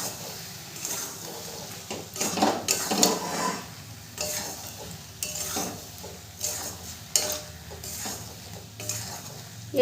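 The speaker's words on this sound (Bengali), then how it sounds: "এবার আমি ঢাকনাটা তুলে নেব। ভালো করে নেড়ে দেবো।" A pot lid lifts off and a spoon stirs a jujube pickle inside, producing clattering metal knocks and scraping strokes in irregular bursts over a soft background sizzle, close and fairly loud, with no talking.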